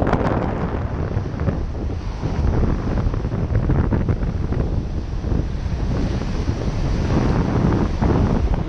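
Steady, roaring wind buffets the microphone at Jensen Beach, a dense broadband rumble with gusty surges and no voices.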